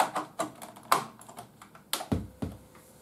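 Typing on a MEGA65 computer keyboard: scattered individual key presses and a few heavier clacks, close and fairly quiet, irregular in rhythm, with no talking.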